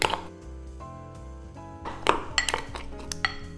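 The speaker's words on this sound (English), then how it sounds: "And using a muddler, just mash it down." A muddler mashes sliced persimmons in a mixing glass while the glass is turned, giving a run of close, bright clinks and knocks against the glass that grow busier toward the end.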